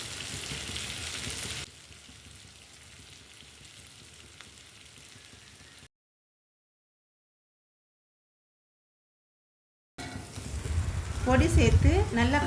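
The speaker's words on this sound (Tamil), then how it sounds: "பொடி சேர்த்து நல்லா கலந்து விட்டுட்டு ஒரு 2 நிமிஷம் வதக்கிக்கலாங்க" Bitter gourd sizzles in a pan with ground masala powder over a low flame. A steady soft frying hiss gives way to a silent gap, then a louder burst of cooking noise returns.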